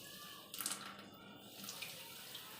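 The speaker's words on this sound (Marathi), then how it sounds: "नळ बंद कर" Water runs from a tap into a sink in a soft, steady stream with a brief louder splash, heard quietly and alone.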